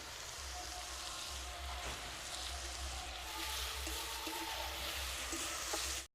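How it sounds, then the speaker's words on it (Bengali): Ginger, garlic and green chili paste fries with onion paste and whole spices in hot oil, a steady close sizzle running unbroken from start to finish with faint clinks of a spatula. "মশলাটাকে ভালো করে ভেজে নেব"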